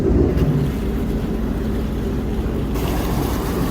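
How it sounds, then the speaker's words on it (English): Jet ski engine idling in neutral after starting, a steady low rumbling drone heard close, mixed with wind buffeting the microphone. "When you start a jet ski, it starts in neutral."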